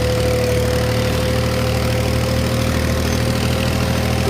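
Swaraj 735 tractor engine labouring uphill in second gear, a loaded trailer behind, a steady loud diesel drone with a constant low throb and no speech.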